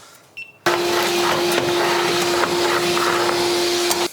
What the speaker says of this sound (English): Can probably vacuum most of this up before we scrub.